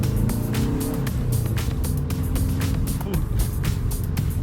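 Subaru WRX with a lightweight crank pulley accelerating from inside the car, a steady loud engine drone with a rising pitch, while a person lets out a short exclamation.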